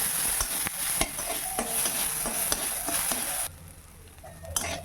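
Rice stirred lightly in about a spoonful of hot ghee in a kadai wok: steady close sizzling broken by rhythmic scraping strokes of a spatula, each about a second apart. The sizzle drops noticeably quieter near the end.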